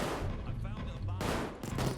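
Bursts of automatic gunfire rattle through a firefight in the heist game PayDay 2, loud and sustained, with people talking over the shooting.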